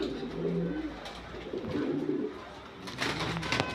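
Red Lahori show pigeons in a fancy pigeon loft, several birds giving low rolling coos in repeated bursts, close by, with faint rustling and flutter toward the end.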